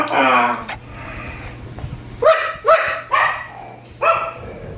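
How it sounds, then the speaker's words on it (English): A dog barks several times in short separate bursts, fairly close, with a quiet hum underneath and a voice at the start. "Did you hear a dog barking?"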